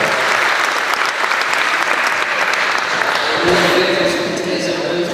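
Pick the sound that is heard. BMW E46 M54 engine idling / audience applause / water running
audience applause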